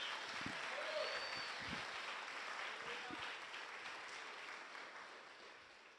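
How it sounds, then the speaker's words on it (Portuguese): A church congregation at a CEC carnival-season service in Cabo Frio claps together in a soft, steady wash of applause that sounds somewhat distant and gradually fades toward the end. "Você pode aplaudir o Senhor Jesus por isso?"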